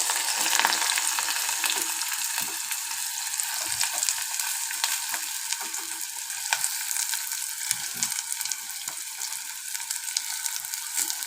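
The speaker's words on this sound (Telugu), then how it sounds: "ఉల్లిగడ్డ పచ్చిమిర్చి ఎర్రగా వేగిపోవాలి" Chopped onions and green chillies frying in hot oil in a pot, a dense, loud, continuous sizzle with occasional stirring, no talking.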